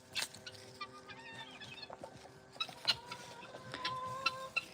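Chickens and guinea fowl in a farmyard cluck and squawk in short, overlapping bursts, with a few sharper calls standing out above a busy, close-up background of poultry chatter.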